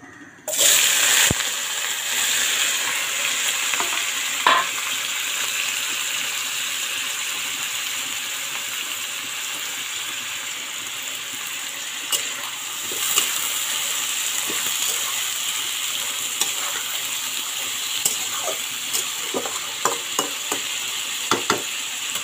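Beetroot and other vegetables fry with cumin in hot oil in a kadai, producing a loud, steady sizzling hiss with occasional clinks and scrapes of stirring, and no talking over it.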